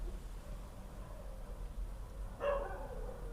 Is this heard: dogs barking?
yes